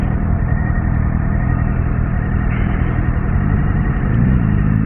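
A Suzuki V-Strom 1050DE motorcycle engine drones loud and steady while riding, a continuous mid-pitched rumble with a slight rise in revs toward the end, close to the rider.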